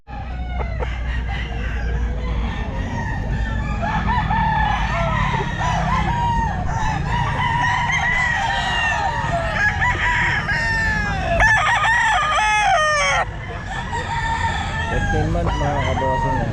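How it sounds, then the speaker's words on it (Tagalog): Roosters crowing repeatedly over clucking chickens at a busy pet market, loud and close, with several overlapping crows and faint background chatter. "Tara, punta tayo dito sa manok niya."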